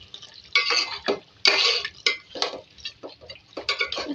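A spoon stirs a pot of Delhi-style beef stew finished with chopped green coriander, making a series of close, scraping and clinking strokes in an uneven rhythm with short pauses between.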